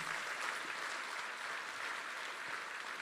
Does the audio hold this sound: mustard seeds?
no